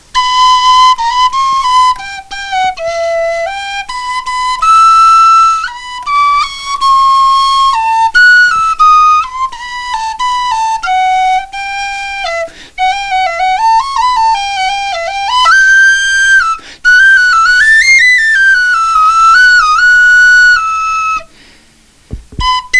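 A fluier, the Moldovan shepherd's flute, plays a classical tune solo, a loud bright melody of wavering held notes and quick ornamented runs with brief pauses between phrases, heard up close.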